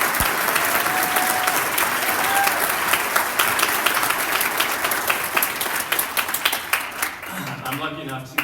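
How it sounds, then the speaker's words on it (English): Steady, dense audience applause at a ballfield naming ceremony continues close and loud for several seconds, then tapers off as a speaker resumes. "I would just like to ask you for another round of applause for Helen tonight."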